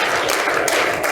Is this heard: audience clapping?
yes